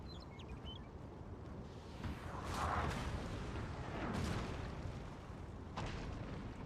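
Distant cannon and artillery fire rumbles in a Napoleonic-era battle, with a few muffled booms swelling out of a steady low roar of battlefield noise, fairly faint overall.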